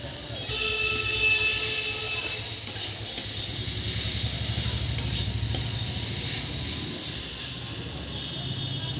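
Bitter gourd and potato fry over a wood-fired clay stove, giving a steady close sizzle with low rumbling crackle throughout and a faint tonal hum in the opening seconds.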